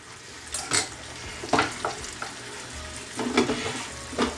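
Shrimp frying in a hot pan with rice wine vinegar, a steady sizzle broken by several louder bursts of crackle and stirring scrapes, close up, with no talking.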